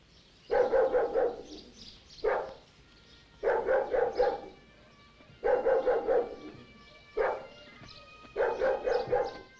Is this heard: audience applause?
no